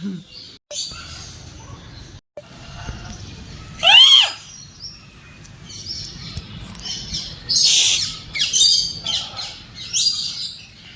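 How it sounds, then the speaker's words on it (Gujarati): Loud, shrill African grey parrot calls and whistles burst out in several rising squawks over a quiet room at a zoo, with a faint voice in the background. "રાખોડી આફ્રિકન પોપટ ગાઈસ આ પોપટ પિંજરામાંથી બહાર નીકળવાનું કરે છે"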